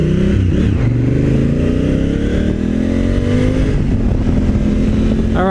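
A Honda Africa Twin motorcycle is ridden at speed, its engine droning loud and steady with rising and falling gear tones, mixed with strong wind rush throughout.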